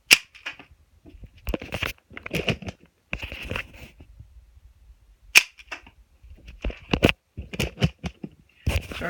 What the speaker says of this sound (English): So I'm going to shoot across into another room.